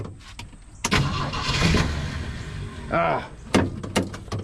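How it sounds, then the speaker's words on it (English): A classic car called Cracker Jack is being cranked after distributor work, turning over in short bursts with a sharp mechanical clatter near the mic while people talk around it. "Let's see if it'll crank up."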